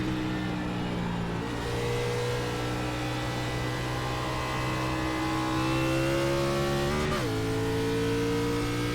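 Race car engine in the iRacing sim at World Wide Technology Raceway at Gateway, a loud steady drone held in one gear, shifting pitch once early and dropping sharply near the end as the car brakes, with no talk.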